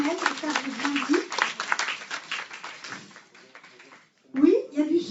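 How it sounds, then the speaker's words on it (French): Indoors at a conference event, a modest audience claps for a few seconds over a speaker's voice, the applause thinning out before talking resumes. "Je vous demande d'applaudir Fabien Rénal qui représente les Sentinelles."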